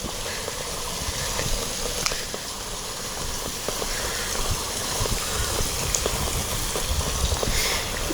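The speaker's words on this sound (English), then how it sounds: "as we wrap around, we have another water feature." Water feature in a park on Queen Anne Court, Sovereign Islands, Gold Coast, flowing steadily as a broad, even hiss of splashing water that stays alone and constant throughout, with no voices over it.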